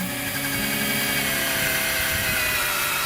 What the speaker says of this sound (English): So that's 200 grit sandpaper on a drill.